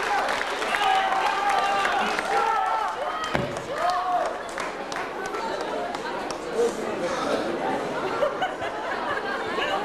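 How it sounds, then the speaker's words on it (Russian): Audience applause at a 2005 concert at the Asia Center after a band, steady clapping mixed with crowd chatter and voices for the whole stretch. "Ваши аплодисменты."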